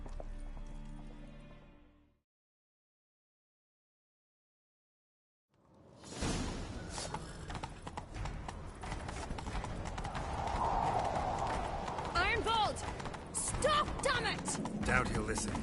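Horse hooves galloping in The Witcher 3, a rapid clip-clop with whooshing movement after a short silence, continuous and fairly close, with faint game voices underneath.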